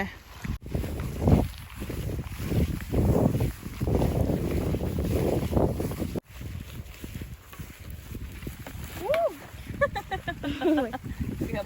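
Wind rushes steadily past the microphone on a rainy seashore, with low buffeting gusts and some rustling, and faint voices and a few short vocal sounds toward the end.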